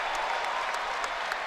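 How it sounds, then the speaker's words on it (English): A basketball arena crowd at a Michigan Wolverines home game bursts into dense, loud applause and cheering that holds steady throughout, clapping crackling over a roaring backdrop. "Crowd going absolutely wild."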